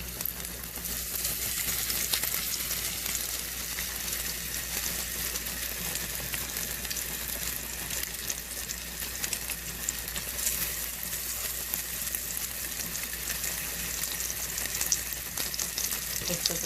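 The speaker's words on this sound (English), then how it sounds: "It's smoking hot. And I am going to sear the pork chops." Breaded pork chops searing in a smoking-hot pan give a loud, dense, unbroken sizzle that holds steady throughout, close up and with no talking.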